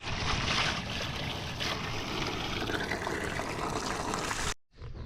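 Water gushes and splashes steadily as calf bottles on a ranch are emptied and refilled, loud and close, then cuts off abruptly near the end before a brief resumption.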